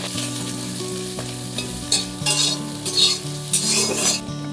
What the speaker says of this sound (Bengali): এগুলো সব একে একে ভেজে নেব